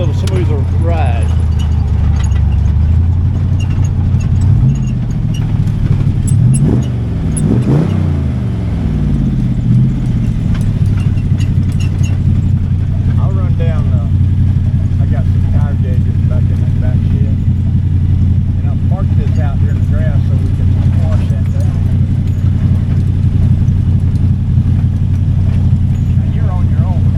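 A rat rod running on Denman straight line tires, its mid-pitched engine droning loud and steady close by, with a couple of revs rising and falling near the start; a voice talks over it.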